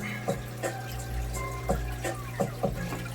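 Running tap water splashing as an aquarium fern is rinsed off while setting up a 29 gallon fish tank, with a steady close stream broken by several short splashy bursts.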